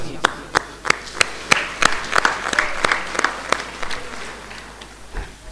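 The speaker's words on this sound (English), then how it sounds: "this special thanks goes to you with a round of applause to this young teacher" An audience gives a round of applause for a young teacher at a school event, with sharp individual claps standing out from a steady, fairly close crowd clapping that carries on for several seconds and then thins out.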